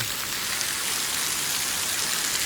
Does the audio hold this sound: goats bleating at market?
no